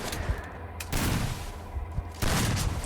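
Rapid bursts of gunfire in the mobile shooter game Free Fire, loud and close, with dense volleys arriving in waves and brief lulls between them.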